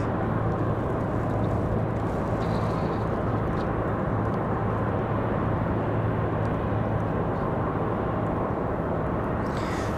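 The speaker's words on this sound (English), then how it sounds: "Republic from JFK, again, our next arrival at E175. Oops, ready for touchdown." A Republic E175 regional jet arriving from JFK makes a constant, loud engine roar at an airport through its touchdown, with a low droning hum underneath and no talking.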